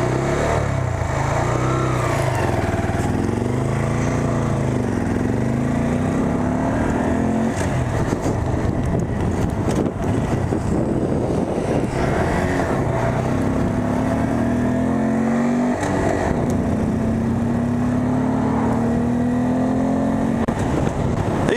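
A Honda Grom motorcycle engine revs repeatedly during a test ride, rising and falling in pitch with loud, steady wind and road roar throughout.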